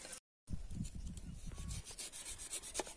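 Cassava (tapioca) being sliced for chips, rapid rough rubbing and scraping strokes close up after a brief dropout, quieter and thinner toward the end.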